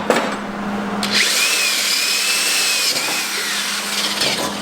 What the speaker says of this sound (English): So I'm just gonna drill these 2 holes.